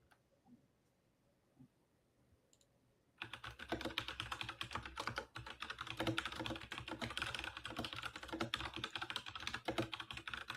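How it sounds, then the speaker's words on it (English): After a quiet start with faint sounds, rapid, forceful keystrokes on a computer keyboard burst in and continue densely and loudly to the end, clattering close to the microphone. "Who's typing that hard?"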